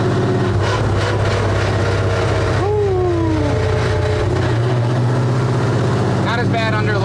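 An old Ford F100 pickup's engine and exhaust drone steadily and loudly up close while it drives in second gear, with a brief rising whine and a voice talking over the low rumble.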